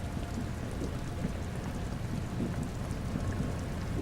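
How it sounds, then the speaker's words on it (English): Rain falls steadily on wooden boards of a fishing jetty in the game Disco Elysium, a dense, even patter with no voices. "All around you, rain keeps falling down."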